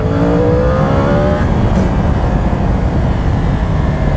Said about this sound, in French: ça relance bien, mais on sent qu'on a un 4 cylindres